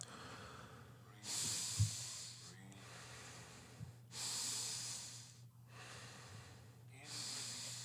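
Slow breaths during a guided breathing exercise, with several long, airy exhales and inhales spaced a few seconds apart over a low steady hum, close and soft.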